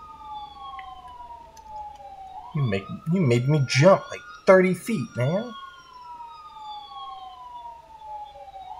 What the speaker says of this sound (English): Double siren, jeez.